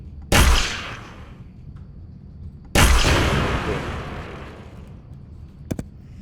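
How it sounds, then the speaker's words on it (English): Two small explosion effects in a video game under development, each a sudden loud burst that decays over a second or more, followed by a faint short click. "it does a little explosion."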